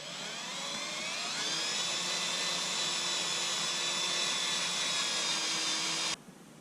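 A power drill bores steadily through a bicycle's bottom bracket during a ski bike build, a loud continuous whine with slowly shifting pitch that cuts off abruptly near the end.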